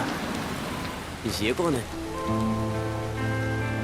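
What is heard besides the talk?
rain falling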